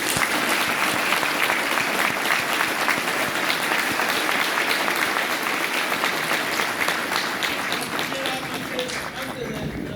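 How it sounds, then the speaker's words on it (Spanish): Large audience applauding steadily at the close of a talk about the Malvinas, dense continuous clapping that stays loud for the whole stretch and eases only slightly near the end. "Les pido un aplauso grande."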